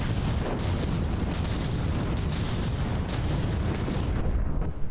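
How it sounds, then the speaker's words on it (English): Shells from From the Depths naval combat pound in without pause, a dense, loud rumble of artillery impacts and booms stacking over each other in a continuous barrage, no voices heard. "The shells keep popping in, but too many turrets are still alive."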